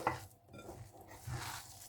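Onion, fennel powder, cumin, curry leaves and dried chillies being stirred together by hand in a bowl, a soft, close, continuous rustling and squelching with light gritty scraping.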